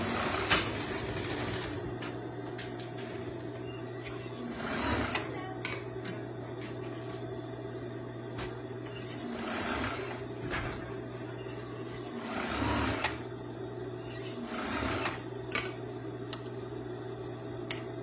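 A sewing machine stitches the hem of a stretch knit beanie hat, a steady mechanical hum with periodic louder whirring bursts and brief pauses as the fabric is guided.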